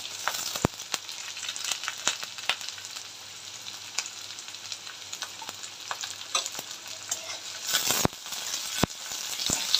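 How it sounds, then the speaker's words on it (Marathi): Onions frying in a pan with curry leaves for a potato sabzi, a steady close sizzle with occasional sharp clicks of stirring, no talking. "कांदा फ्राय करून घेऊया।"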